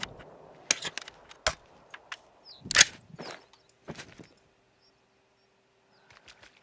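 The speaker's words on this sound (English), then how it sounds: "I didn't make good shots on either of those Ibex" Gunshots from an ibex hunt: several sharp broadband cracks spread over a few seconds, one louder report near the middle, with quiet outdoor pauses between and no talking.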